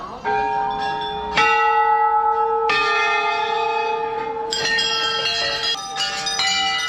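Several Hindu temple bells ring out one after another, each struck clearly and left to hum with long, bright overtones that overlap and fade.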